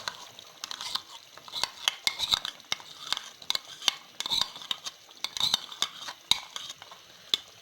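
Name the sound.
quail with yogurt and cream being fried and stirred in a pan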